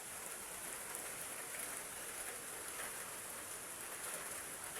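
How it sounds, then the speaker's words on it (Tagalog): Heavy rain pours steadily during a typhoon, a dense, unbroken hiss of drops hitting surfaces that holds an even loudness throughout, with no voices over it. "Ulan-ulan na po, grabe."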